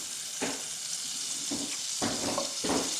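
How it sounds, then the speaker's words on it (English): Butter sizzling in a warm pan before searing sous vide filet steaks, a steady high hiss broken by a few brief crackling spurts. "Let's throw a piece of butter in here and see."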